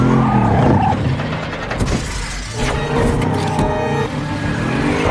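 Car skidding in place in the action film Hitman: Agent 47 after steel wire cables snag it, a loud dense movie mix of engine roar, tire noise and sharp impacts, with brief bright crashes and no talk.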